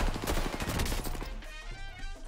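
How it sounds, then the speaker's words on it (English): In Call of Duty: Warzone, an airstrike lands right on the player, a close flurry of rapid booming blasts and gunfire-like cracks that fades into a rumbling tail. "Airstrike right on me."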